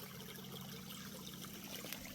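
Water from a farm pond runs steadily through a freshly cleared drain, a soft continuous trickle and gurgle at moderate distance, with no other sounds over it.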